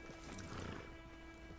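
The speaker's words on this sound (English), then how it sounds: "Get on the horse there." A horse whinnies amid clopping hooves in the video game GTA Online's Cayo Perico, set against a steady low hum and soft background ambience.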